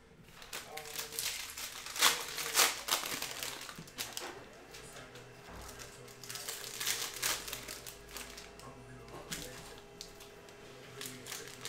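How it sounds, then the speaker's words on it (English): Panini Prizm cello trading card pack being ripped open by hand, with crinkling plastic and tearing wrapper rustles in bursts, close and fairly loud, while a person talks over it. "rip open that pack"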